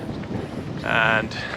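Wind blowing outdoors on a cloudy, windy day near Hook of Holland, a steady rushing buffet with microphone gusts beneath a person speaking briefly.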